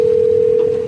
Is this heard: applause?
no